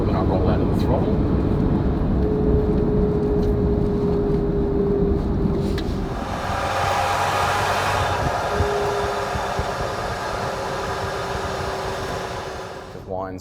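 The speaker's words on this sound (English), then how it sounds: "Whines all the way through past 80 k's an hour." Ford Raptor pickup with a broken differential whining while driving at around 80 km/h, a steady tonal drone running continuously beneath loud road and wind noise inside the cab.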